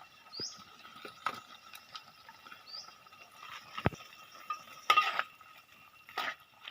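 Chicken curry is stirred in a pan outdoors, with a utensil scraping and clinking against the metal in scattered, irregular strokes, fairly faint and close, with no one talking.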